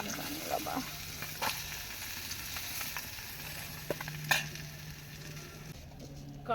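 Pabda fish frying in a pan of hot oil, a steady close sizzle with occasional sharp pops and spatters, while people talk quietly over the cooking.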